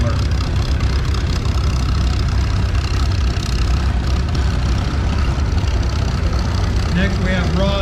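A 1938 Farmall F20 tractor engine runs at a parade at the Oklahoma Steam and Gas Engine Show in Pawnee, chugging as a steady low idle throughout. A voice talks over the engine.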